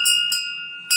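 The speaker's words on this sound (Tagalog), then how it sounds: "kampana ng 12 apostol" Church bells of the 12 apostles ring out clearly, two bright metallic strikes with a long sustained ringing hum between them, loud and close with no other sound.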